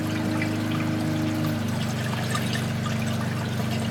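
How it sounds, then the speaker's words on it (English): Water overflows a series of weirs in an industrial wastewater recycling system, a constant rushing trickle and pour layered over a steady low mechanical hum, unbroken and fairly loud, without speech. "As the water flows through, it'll go through a series of weirs"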